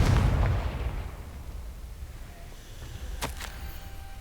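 A Confringo blasting curse from Hogwarts Legacy erupts in a loud booming explosion, then rumbles away, followed by a couple of sharp pops.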